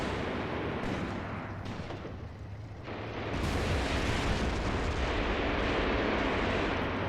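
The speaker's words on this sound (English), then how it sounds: "Still getting some very effective artillery fire, you can see back there." Artillery fire in the wargame Graviteam Tactics: Mius-Front, a dense rumbling wash of distant bombardment that swells louder partway through and holds steady, with no voices.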